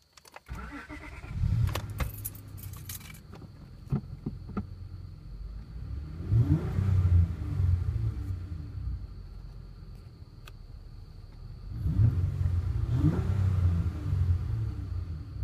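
A car cranks and fires up for the first time after a timing belt change, with keys jangling at first, then a rumbling engine that revs up in two distinct swells and settles back to a steady idle.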